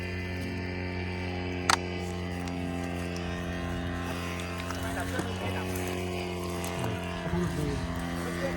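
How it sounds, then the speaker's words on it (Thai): A paramotor engine keeps running at a steady buzzing drone, with one sharp click early on and faint speech over the engine. "เครื่องไม่ดับพี่เครื่องไม่ดับเลย"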